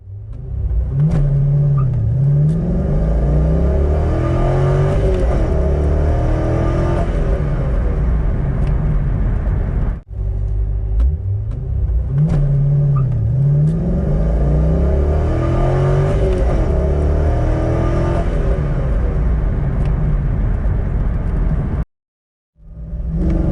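A stock C5 Corvette roars hard through a 0-60 run, its loud engine note climbing steadily through the gears with a brief drop at each shift, close and continuous, then cuts out near the end.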